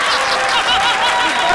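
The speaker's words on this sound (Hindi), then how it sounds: "ताली।" Studio audience at a Hindi TV comedy show bursts into dense, steady applause, loud and sustained throughout, with a few chuckles mixed into the clapping.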